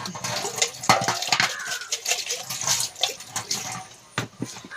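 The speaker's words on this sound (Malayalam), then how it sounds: "പാത്രം കഴുകട്ടെ പാത്രം കഴുകിയിട്ടേ" Dishes being washed by hand under running water, with a steady splashing stream broken by repeated sharp clinks and clatters of pots and plates close by.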